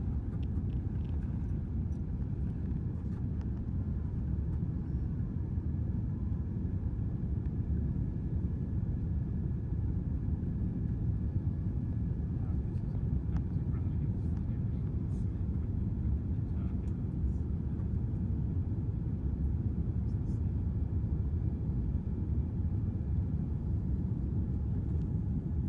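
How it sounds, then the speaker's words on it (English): A British Airways airliner accelerates down the runway at Haneda for takeoff, heard from inside the cabin as a steady, loud low roar of engines and rumbling wheels that holds for the whole stretch. "As we build up speed racing down the runway at Haneda"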